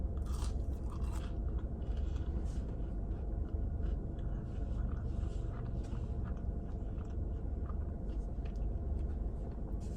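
Chick-fil-A fries are chewed inside a parked car, with close, continuous crunchy mastication and mouth sounds over a low car-interior rumble, no talking.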